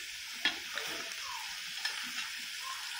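A few scrapes of a spoon stirring desi chicken curry in a pan, with a soft steady sizzle underneath; quiet and close, no voices.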